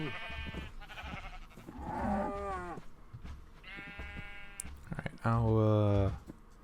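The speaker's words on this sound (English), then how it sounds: "I'll put these sheeps in here." Sheep in the Minecraft video game bleat several times in a row, with short wavering calls spread across the clip and one louder, nearer bleat near the end, over a faint background.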